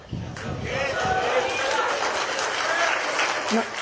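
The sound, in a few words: audience applauding a speech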